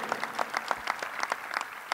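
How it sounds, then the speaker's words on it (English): Applause rings out inside Nassau Coliseum during a governor's announcement, the individual hand claps distinct and fairly evenly spaced, moderately loud and close, with no voices over them. "Let's give him a round of applause."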